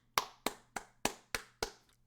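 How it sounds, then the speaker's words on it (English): Six sharp hand claps in an even, steady rhythm, close and crisp, each with a quick decay, alone without any talking. "That's me clapping for you."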